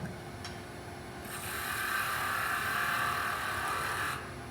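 Wood lathe spinning at reduced speed while a wooden box piece is turned, a steady mechanical whir that swells into a brighter, scraping tone for a few seconds, then drops back.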